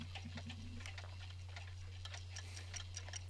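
Clocks tick steadily in a film scene from Back to the Future, a quiet, regular series of sharp clicks over a constant low hum.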